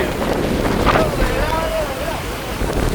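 Strong wind roars and buffets the microphone during a cyclone flood in Sri Lanka, a steady, loud blustery rush with water noise beneath and a voice speaking briefly.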